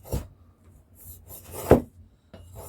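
A freshly sharpened knife blade cutting, heard as a few short dry scraping and rasping strokes with quiet gaps between them, one stronger slice near the end, close and fairly faint.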